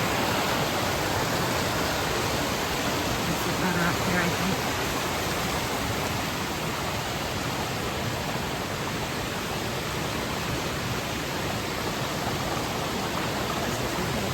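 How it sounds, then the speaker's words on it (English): A creek spills over small waterfalls along a wilderness trail, a steady, loud, broadband rush filling the whole clip, with a brief spoken comment partly masked beneath it. "pretty waterfalls."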